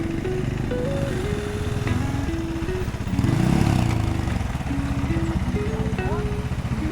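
A motorcycle rolling downhill on a rough road, its engine puttering steadily at close range with a brief louder surge midway, and voices talking over it.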